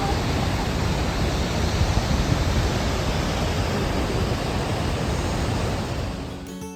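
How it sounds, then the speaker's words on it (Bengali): Fast, powerful water pours down a Yellowstone waterfall that feeds the Yellowstone River, a dense, unbroken roar that stays loud and steady throughout and drops away only at the very end. "জলের বেশ ভীষণ স্পিড, নিশ্চয়ই আওয়াজ শুনেই বুঝতে পারছি।"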